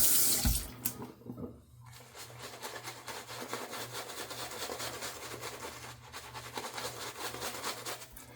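Water runs steadily from a tap, a continuous rushing hiss after a brief clatter at the start, with light rubbing sounds mixed in.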